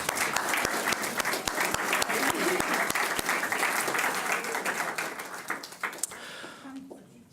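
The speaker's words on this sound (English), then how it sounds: "So please, a round of applause for our sponsors" Audience at an awards night applauding sponsors, dense sustained clapping with sharp individual claps throughout, fading out near the end.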